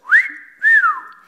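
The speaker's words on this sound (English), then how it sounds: "the motive of a guy when he whistles to a cute girl" A man's two-note wolf whistle aimed at a girl, a rising then falling glide heard twice, clear, close and alone.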